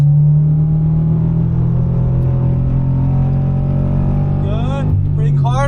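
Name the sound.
Subaru BRZ track car engine accelerating and braking on racetrack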